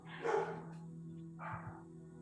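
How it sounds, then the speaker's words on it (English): Dogs barking in the distance, two short bursts of barks separated by a pause, faint against a quiet background hum. "There goes those dogs."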